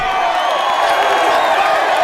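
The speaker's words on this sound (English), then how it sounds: "And the crowd goes wild." A crowd cheers and whoops loudly at a rap battle in a film, a sustained wall of excited voices that stays at the same high level throughout.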